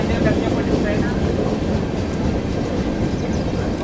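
The Chennai Express train rumbles past in heavy rain in the Western Ghats, a loud, continuous low roar and rush with no distinct clacks, steady from start to end.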